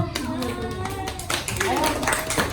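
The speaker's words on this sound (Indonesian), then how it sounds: "tepuk tangan untuk kelompok 1" A fifth-grade class claps briefly for a group of classmates, scattered hand claps mixed with children's voices and a teacher talking over them.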